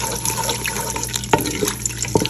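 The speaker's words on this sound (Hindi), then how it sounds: "ऑयल हमारा हो गया गरम और हम इसमें कर देंगे अपने गरम मसाले जो कि साबुत वाले हैं" Whole garam masala spices drop into hot oil and give a close, steady frying hiss with a few sharp pops and crackles over a short moment. No one speaks.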